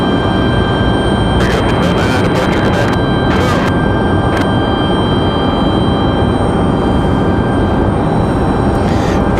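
A Republic Airways Embraer E175LR jet departs, a steady loud broadband roar of engine and airflow filling the whole stretch, with a few brief hissing bursts layered over it.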